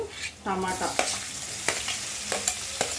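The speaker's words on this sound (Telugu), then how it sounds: "ఆనియన్స్ తొందరగా వేగడానికి కొద్దిగా సాల్ట్, ఆనియన్స్ వేగేయండి" Onions frying with a little salt in a pan make a close sizzle broken by a quick run of stirring scrapes and several sharp spoon knocks against the pan.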